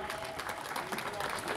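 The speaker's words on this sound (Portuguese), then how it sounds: "Uma salva de palmas, Grupo Folclórico Santo António de Vagos." An audience applauds a folk dance group at a folklore festival: steady, dense clapping that fills the whole moment, with crowd voices mixed in.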